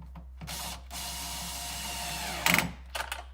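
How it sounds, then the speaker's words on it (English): Power drill with its clutch set at 9 driving a 10mm nut on a Chevrolet Volt, a motor whir in short bursts that ends in a sharp ratcheting clutch chatter, with quiet gaps between bursts. "and then I set my clutch here at 9. Fastest way I know to get a 10mm nut back where it belongs."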